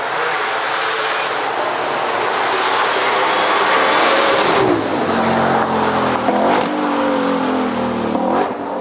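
Race car on a private track day, Porsche 992 GT3 RS or Shelby GT500, roaring loudly as it approaches and passes close by, engine pitch sweeping down and then rising again as it accelerates away.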